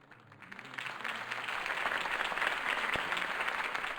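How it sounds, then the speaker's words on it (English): A crowd applauds steadily in the video game Batman: The Telltale Series, the clapping swelling after a quiet start and holding at a full, even level. "could have heard that applause"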